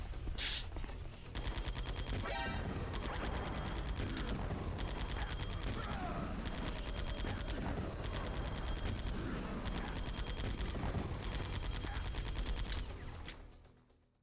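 A suppressed gun fires in Metal Gear Solid: The Twin Snakes, producing a long run of rapid, evenly spaced muffled shots that continue for about twelve seconds before stopping.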